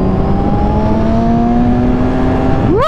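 Kawasaki Z1000 motorcycle pulling steadily with a droning engine tone, then sharply revving up as it accelerates to overtake near the end, loud and close with wind noise.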